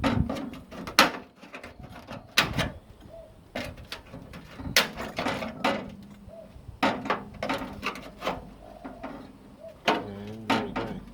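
Screwdriver prying a panel skin loose, giving a series of sharp clicks, scrapes and snapping pops in irregular bursts, close and fairly loud, with a few short faint creaks between them and no talk.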